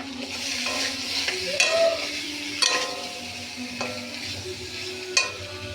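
Soybean chunks sautéed with turmeric, salt and garam masala in a pan at close range: a steady sizzle with repeated stirring scrapes and occasional utensil clinks against the pot.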